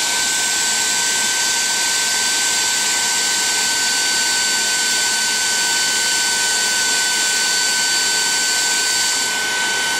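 Philips Active Cool 1650 HP3462 hair dryer running on high speed, a loud, steady, close whirring rush of air and motor whine that holds constant throughout with no talk.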